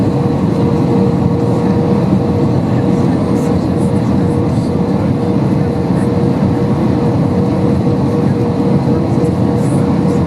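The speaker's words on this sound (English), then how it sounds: "here is the plane arriving into Malta" A passenger airplane arriving and landing at Malta airport, heard as a loud, constant engine roar and cabin rumble that holds steady throughout.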